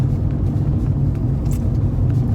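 Steady low rumble inside a moving combustion-engine car on a rattly ride, a continuous close engine and road drone with faint rattles, no talking.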